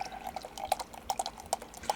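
Mexican spiced imperial stout is roughly poured from a bottle into a glass, making soft, close liquid gurgles and a few sharp drip-like splashes, quiet and with no talking.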